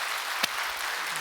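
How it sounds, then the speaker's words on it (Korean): A church congregation clapping for a soldier in uniform during a Sunday service, a steady, even patter of many hands with one sharper clap standing out midway. "형제를 향하여 박수 한번 보내고 지나가겠습니다"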